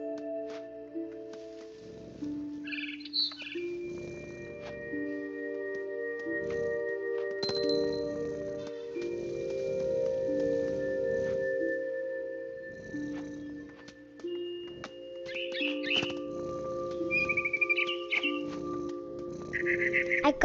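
Bird chirps ring out in the game What Remains of Edith Finch, bright short calls scattered over a sustained tonal music bed and a soft low purring rumble, with a cluster of chirps near the end.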